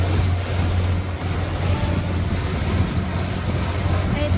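A small motorboat carrying a couple of passengers runs steadily across the sea near Perast, its engine drone blending with constant wind rush on the microphone.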